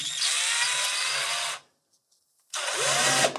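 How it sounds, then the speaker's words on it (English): Power drill driving a screw into a guitar trem block, two close whirring bursts with a one-second pause between, the second ending as the screw seats. "I'm going to drill that or screw that in."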